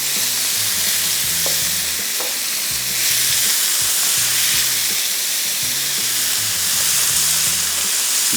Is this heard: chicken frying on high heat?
yes